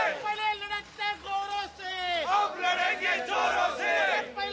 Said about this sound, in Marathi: मोठी गर्दी आता शिवाजी पार्कच्या रस्त्यांवर पाहायला मिळते।